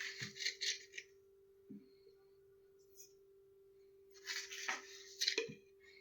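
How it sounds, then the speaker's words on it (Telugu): A spoon scrapes and clinks against a pot while two spoonfuls of sugar go into boiling tea, in two short bursts at the start and near the end, over a steady low hum from the stove. "ఇప్పుడు నేను 2 స్పూన్స్ షుగర్ వేస్తున్నాను"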